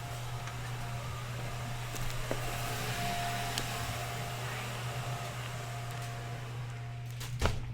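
Vacuum cleaner droning behind a closed door in a quiet room, a steady muffled hum with a low tonal whine, faint and continuous, with a brief knock near the end.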